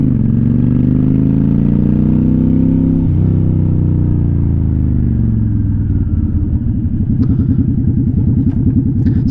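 A motorcycle rides along a road, weaving, its engine loud and close with a steady mid-pitched drone that dips and shifts in pitch partway through, then settles into a rougher, pulsing rumble.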